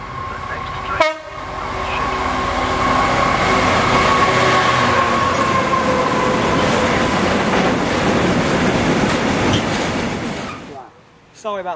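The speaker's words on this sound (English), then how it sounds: "The train now approaching platform 2 does not stop here." Freight train rolling through Cholsey station in the rain, a loud, close rumble with wheel clatter that builds and holds for several seconds before fading, after a short horn-like tone near the start; speech is faintly audible beneath it.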